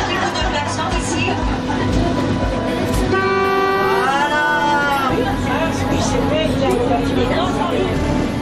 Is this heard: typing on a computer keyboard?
no